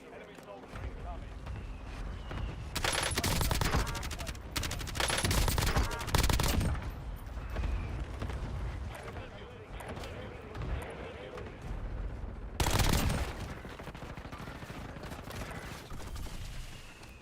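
Bursts of automatic gunfire in the Warzone video game, several loud sustained volleys with a later burst, over continuous in-game noise and talk.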